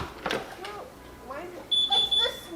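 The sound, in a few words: alarm system beep when patio door opens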